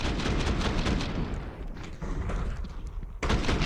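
Gunfire from a Counter-Strike match in an ESL Pro League broadcast, with dense bursts of shots and impacts at the start, a brief lull with scattered bangs, then another burst at the end.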